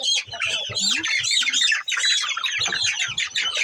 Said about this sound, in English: So these hens, these chicken, all hens are ready to be separated